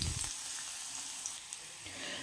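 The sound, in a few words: chopped garlic and chili flakes frying in oil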